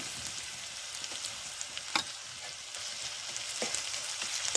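Chopped onion fries in hot oil for a chicken dish, a steady bright crackling sizzle close by with a few sharp pops and faint stirring taps.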